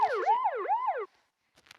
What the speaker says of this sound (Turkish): Bu arada polis arabasından böyle ses çıkıyor.